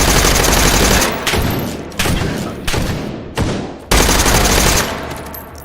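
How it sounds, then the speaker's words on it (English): Rapid bursts of video game gunfire, an M203-fitted rifle in a shooter game, crackle loudly in several dense volleys separated by brief pauses, with no talking over them. "Sorry, can't hear you over gunshots."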